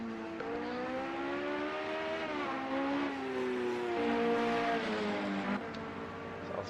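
A race car engine in Project Cars 2 revs steadily at Hockenheim, its pitch rising and dipping in sweeping harmonic bands, with a continuous loud whine and no voices.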